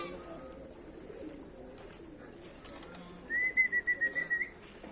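Pigeons coo on a rooftop among a large flock, a soft rhythmic series of throaty coos rising near the end over faint outdoor background and light rustling.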